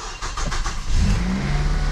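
A Chrysler 300 engine starts after repair work, with a short burst of cranking clicks followed by the engine catching and settling into a steady, close, rumbling idle, with no talking.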